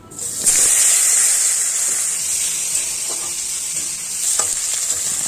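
Potatoes hit hot fish-frying oil seasoned with whole cumin seeds, setting off a loud, steady sizzle with occasional soft stirring clicks throughout.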